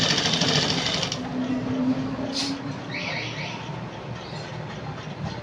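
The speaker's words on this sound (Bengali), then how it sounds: "এইগুলোকে আগে সেলাই করে দিয়ে দিই, তারপরে সারাদিনের সেলাই।" Sewing machine stitching fabric while nighties are hemmed to size, a steady mechanical whir that runs continuously at close range, with a brief squeal partway through.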